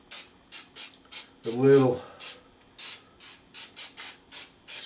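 Repeated short hissing bursts of an olive oil cooking spray, about a dozen quick sprays in an uneven rhythm, with a brief spoken phrase in the middle.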